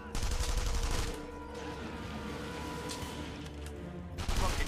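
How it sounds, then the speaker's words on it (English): Sniper and automatic gunfire from the video game The Saboteur, a sustained loud barrage of overlapping shots with louder bursts at the start and end. "Fucking snipers!"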